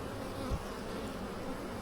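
Honey bees buzz steadily and softly inside a small nuc hive, a low continuous hum with a brief thump partway through.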